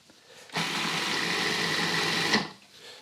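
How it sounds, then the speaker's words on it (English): A food processor whirs steadily for about two seconds while blending a mixture with olive oil, a loud, close motor drone that starts abruptly and cuts off, with no voice. "One more go with the food processor."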